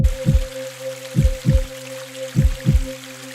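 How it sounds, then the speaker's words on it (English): A slow, deep heartbeat thumps in paired beats, three pairs in all, over a steady low drone and faint trickling water. "if you listen to the heartbeat and the trickling sound of the water"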